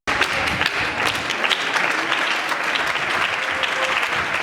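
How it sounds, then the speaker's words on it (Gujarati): An audience at a cricket academy felicitation in Hanol breaks into loud, dense applause that runs steadily for several seconds after an abrupt start, with no break. "જોરદાર તાળીઓથી વધાવી"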